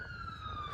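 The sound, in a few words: ambulance and police car sirens passing by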